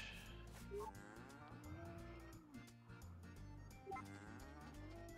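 Cows in the farming video game Story of Seasons: A Wonderful Life moo repeatedly, several drawn-out low calls overlapping over steady game music, with no talk.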